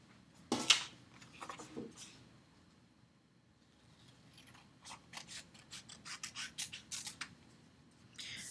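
Scissors snip through paper shapes to halve them, a quiet close scattering of crisp cuts and rustles, with a burst of rapid snipping toward the end.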